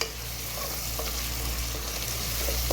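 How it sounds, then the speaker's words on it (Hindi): Pieces of tender mutton fry in a pot for biryani, giving a steady low sizzle with occasional stirring clinks, close and continuous. "तो हम थोड़ा सा फ्राई करेंगे।"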